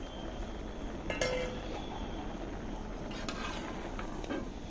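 Chopped vegetables are tipped into a pot while preparing Kerala sadhya dishes, with a few clinks of a utensil against the metal pot over a low, steady background hiss.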